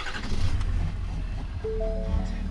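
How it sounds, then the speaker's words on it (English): A Ford pickup hauling a heavy trailer runs on its strong engine brake, giving a continuous low, rumbling engine drone that holds close and loud with a few brief tonal whines near the end. "The engine brake on this thing is actually really strong, which is good."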